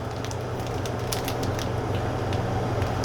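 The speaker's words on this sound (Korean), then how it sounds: "끓는 소리가 들리죠?" Water coming to a rapid boil in a pot on an LG DIOS induction cooktop, a dense continuous bubbling and crackling hiss, steady and close, with no voices.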